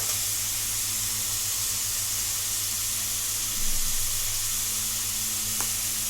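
Onion frying in a pan for a Sindhi seyal sabzi gives a steady, even sizzle that runs unbroken throughout, with a brief stir-like swell midway and no talk.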